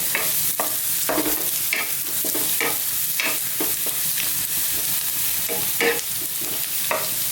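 Garlic fries in rendered pork sausage fat with a steady sizzle, broken by frequent rhythmic stirring scrapes of a utensil against the pan. The sound is close and there is no talk.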